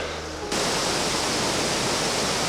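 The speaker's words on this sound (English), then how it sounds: "it's really loud here. The falls are just behind you" A dense, steady roar of falling water starts abruptly and stays loud and constant, filling the whole soundscape.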